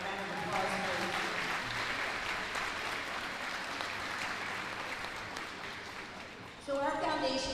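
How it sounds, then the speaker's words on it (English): An audience applauds at a three-day high school boys basketball tournament. A steady wash of clapping fills the space for several seconds, with a voice speaking briefly before it and again as it ends. "So let's give them a big round of applause, please."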